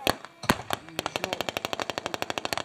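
Machine guns fire during a reenactment of the Battle of Gumbinnen, opening with a few separate loud shots and then settling into a steady, rapid string of sharp bursts that carries on to the end.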